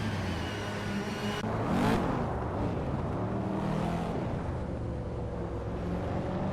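A 1999 Nissan Primera P11 race car engine drones steadily in a racing video game, with a brief rising whoosh as it revs or passes close, over continuous mid-level road and engine noise.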